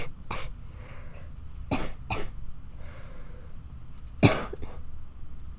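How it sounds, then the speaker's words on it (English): Someone sick coughs a few times close to the ear, short harsh bursts spaced apart with soft breathing between them in a quiet room. "I try not to cough in your ear, but it's hard when your ear's like right there."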